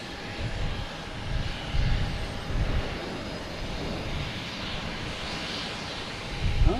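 A fixed-wing airliner at Boston Logan Airport rumbles past at a distance, a broad roar that swells and eases over several seconds, with wind-like noise and no speech.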